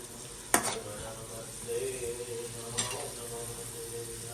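Raisins frying over a low gas flame, a steady soft sizzle with two sharp stirring clatters near the start and midway, no voices.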